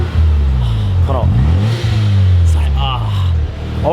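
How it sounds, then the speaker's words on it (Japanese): A Mazda RX-7 rotary engine in a Fast & Furious Tokyo Drift-style build revs loudly and close, rising and falling in pitch through several throttle blips, with someone talking over it. "音楽いらない、そのエンジン音が音楽ですね。"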